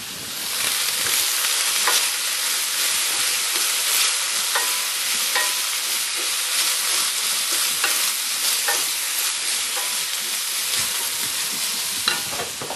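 Shrimp and bell pepper filling for a pie simmering steadily in a pan, a dense continuous sizzle with occasional faint stirring clicks, close and alone without talk.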